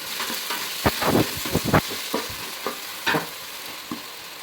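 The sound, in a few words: sautéing chopped tomatoes in oil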